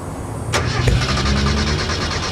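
A car engine cranks and catches, then settles into a close, steady idle with a rhythmic pulsing hum.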